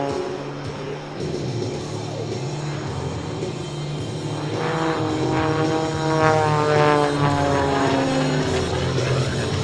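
MXS aerobatic propeller plane flying a tight inside loop at the 2023 Airpower Over Hampton Roads airshow, a steady buzzing engine drone whose pitch sweeps and swells louder midway as the aircraft passes nearer.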